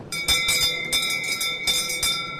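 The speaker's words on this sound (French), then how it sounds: "chaque client qui passe sonne la cloche pour dire qu'il est servi" A hand bell rung at a cheese stand at the Salon de l'Agriculture, a farm show, sounding several bright clangs in uneven bursts with ringing overtones over a busy hall background.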